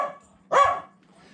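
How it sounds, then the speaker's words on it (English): A dog gives one loud, close bark during an indoor game of fetch with a ball, preceded by a brief murmur of sound. "Stop barking."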